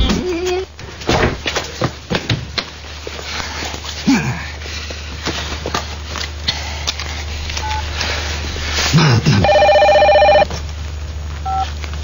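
Electronic telephone tones sound near the end, a loud, steady burst of several stacked pitches after a stretch of footsteps, shuffling and other household noise.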